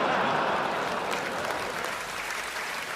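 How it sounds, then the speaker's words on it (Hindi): Audience applause at a Hindi comedy and satire performance: dense, steady clapping from a crowd, loud and continuous throughout, easing only slightly toward the end. "जरा ताली वाली से बजा रहे हैं"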